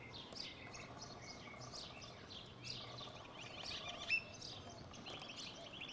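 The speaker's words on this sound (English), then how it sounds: "Birds still entertaining up there." Several birds chirp and sing faintly at a distance in a quiet outdoor setting in Cuauhtémoc, Chihuahua, with short repeated tweets and calls spread across the stretch and no talking.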